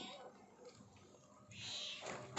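A small pet kitten meowing, a few faint, thin cries near and alone, the last one louder and more drawn out.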